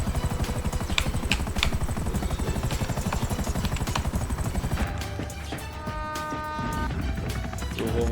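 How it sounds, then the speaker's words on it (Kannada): An aircraft passes overhead in GTA 5 as a loud, continuous pulsing engine drone that holds steady and then shifts into a smoother, thinner tone partway through. "ಪ್ಲೇನ್ ಮ್ಯಾಗ ಹೊಂಟೈತೆ ನೋಡ್ರಿ."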